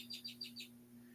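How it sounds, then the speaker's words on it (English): Birds singing outdoors: four quick, high chirps in a regular run, faint and distant over a steady low electrical hum, then quiet. "I can hear the birds outside."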